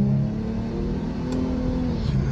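Infiniti G35 fitted with a Magnaflow exhaust revving, a loud, deep, throaty engine drone held steadily up close with no talking.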